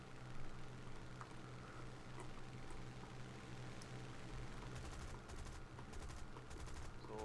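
Distant, continuous rattle of aircraft gunfire during a War Thunder dogfight with a Hurricane Mk I fighter, steady low engine drone throughout and faint bursts of shots scattered across it.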